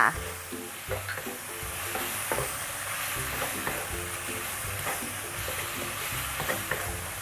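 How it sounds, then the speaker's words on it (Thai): Pork liver stir-fried in a wok with sugar and seasoning sizzles steadily and loudly, with repeated scraping and clattering strokes of a spatula through the whole stretch; no one speaks. "เราผัดให้ตับหมูพอเกือบสุกนะคะ"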